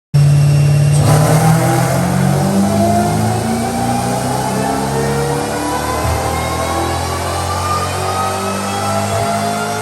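A supercharged Ford Mach 1 V8 with an Eaton blower swap, running E85 on Holley EFI, roars loudly through a full dyno pull, its engine note climbing steadily and staying close and sustained with no talking.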